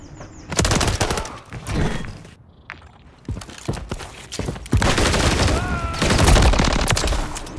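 Bursts of automatic gunfire in Call of Duty MW3 ranked play, loud and close, with rapid volleys and short gaps. Brief clicks and game effects sit between them.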